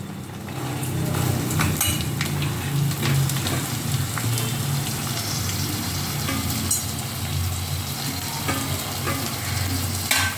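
Onion, carrot, beans and green chili sauté in a pan with a steady, loud sizzle and scraping stirs throughout, as dishes and utensils clink now and then.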